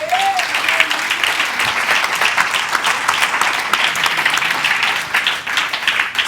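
A church congregation claps loudly and continuously in praise, a dense steady wash of applause filling the hall for several seconds, with a brief voice at the start.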